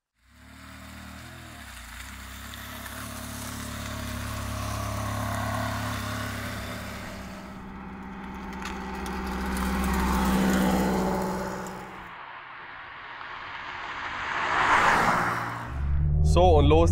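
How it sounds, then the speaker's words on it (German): A Ferrari 360 Challenge Stradale with F1 gearbox drives off, its engine droning steadily and building to louder surges toward the end, heard from inside the car under a voice talking. "Wir wollen jetzt einsteigen und eine Runde gemeinsam fahren."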